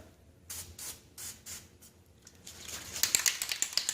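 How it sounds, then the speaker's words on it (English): Several short hissing bursts from an aerosol can sprayed onto rusty metal brackets of a Lawn-Boy Insight single-stage snow blower, then a longer, louder continuous spray with sputtering toward the end. "we'll spray these brackets here that are looking a little bit rusty"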